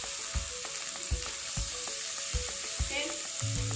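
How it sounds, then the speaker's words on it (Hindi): Grated tomatoes hit hot oil in a pan and sizzle steadily, with a stirring spoon knocking in a soft regular rhythm over the constant frying hiss. "अब हम इसमें ग्रेटेड टमाटोज डाल देंगे।"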